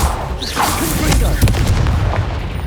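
A Confringo fire spell goes off in Hogwarts Legacy as a loud, close, booming blast with a crackling rumble that lingers for a couple of seconds.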